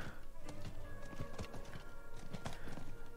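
Horse hooves clip-clop in a steady running rhythm while riding a mount in the video game Diablo IV, close and moderately loud, with game ambience behind.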